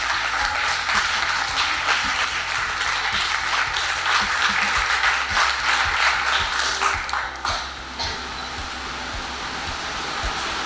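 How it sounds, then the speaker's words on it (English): A large audience gives a sustained round of applause at the launch and inauguration of a research centre, steady loud clapping that thins and drops slightly in level near the end, with no voices over it. "Can we have a very huge round of applause?"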